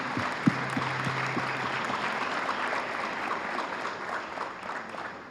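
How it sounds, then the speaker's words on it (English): Audience applause for a speaker at a Sai youth festival in Prasanthi Nilayam, a steady wash of many hands clapping at moderate distance, with a brief tonal hum and a single knock early on. "another round of applause for Brother Chetan"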